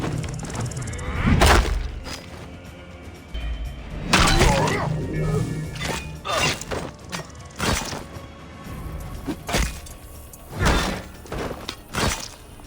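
Brutal combat finishers in an Assassin's Creed game: a rapid run of heavy thuds, blade slashes, smashing impacts and crunching hits, loud and close, with grunts and cries between the blows.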